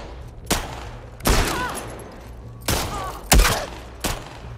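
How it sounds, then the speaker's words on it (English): Gunfire in The Last of Us Part II: a handful of loud, sharp shots ring out at irregular intervals, each with a booming tail, over a low steady game hum. "Who the fuck is shooting me?"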